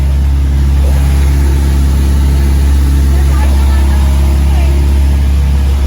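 A boat engine runs out on choppy water with a loud, steady low drone throughout. Voices can be heard over the engine.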